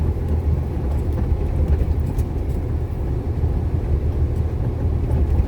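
Steady, dense road noise from a traffic jam on a road into Lat Krabang, a continuous low rumble of idling and creeping vehicles heard from close by, with no talking.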